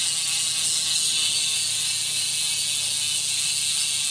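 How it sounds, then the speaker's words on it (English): A Rolf Prima Hyalite 25 700c aluminum gravel wheelset's freewheel hub spins, giving a steady, fast, continuous buzzing ratchet click, close and even throughout with no talk. "Now all you crazy folks want to hear how the free wheel sounds."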